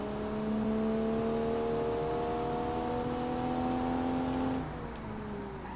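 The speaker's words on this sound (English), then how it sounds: "Let's get going and slam on the brakes." Car in the BeamNG.Drive driving game under hard braking with ABS, heard as a steady tonal engine and drivetrain whine that holds, then drops off sharply near the end as the car slows; no talking.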